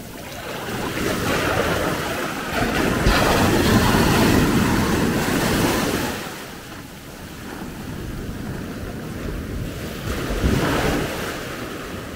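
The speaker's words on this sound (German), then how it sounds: "Das sieht ganz schön, wenn die Welle hier ankommt." Atlantic storm surf rolls onto the beach at Maspalomas, Gran Canaria, a loud continuous roar of breaking waves that swells and recedes, with gusting wind buffeting the microphone.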